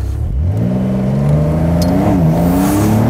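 A 2020 Porsche 911 (992) Convertible engine in Sport Plus mode revs up close, its note rising and settling into a loud, throaty growl that holds steady.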